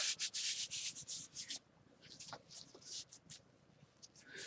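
Hands rub repeatedly over a sealed, dyed leather concealed-carry belt, giving soft, quiet swishing strokes in uneven bursts with short pauses between them.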